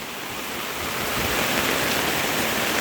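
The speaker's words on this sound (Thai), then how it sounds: "อันนี้ก็น้ำจากข้างบนไหลมานะคะนี่ ข้างบ้านเลยนะคะนี่" Floodwater pours down from uphill beside a house in heavy rain, giving a steady, loud, dense rushing wash with no voices.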